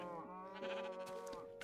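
A single Minecraft sheep bleats in a clear, wavering baa lasting over a second, close and alone with no talk.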